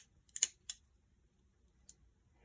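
Three crisp snips from the scissors of a Victorinox Swisstool, two close together then one more after a pause, sharp and near in an otherwise quiet room.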